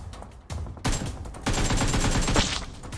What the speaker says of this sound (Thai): เอ้ยไม่ใช่เสียงรอยเท้ามันเสียงปืน